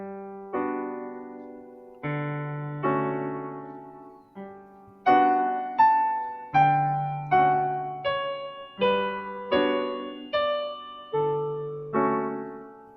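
Erik Satie's Gymnopédie played on a keyboard instrument: slow, gentle chords and a sparse melody, each note decaying softly in a calm, swaying rhythm, clear and close with no voices.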